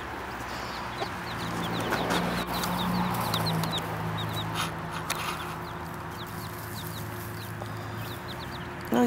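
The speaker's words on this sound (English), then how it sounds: "When our other hen had chicks, she never came out this far the first day." Hen with her chicks outdoors on a farm: soft repeated clucking and many thin high peeps from the chicks scattered throughout, over a steady outdoor hum and low rumble.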